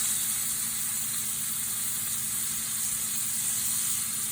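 Liver frying in a pan gives a steady, even sizzle and hiss with no voices.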